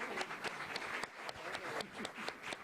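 Audience applause at an education event, a steady broadband wash of many hands clapping for the whole stretch, fairly even in level with no voices rising above it.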